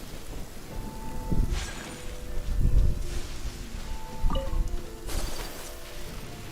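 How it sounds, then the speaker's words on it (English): Rain falls steadily in Genshin Impact, hissing softly across the scene, with low rumbles of thunder and a few crashing thuds rising and fading, and no voices. "Let us find shelter from the rain."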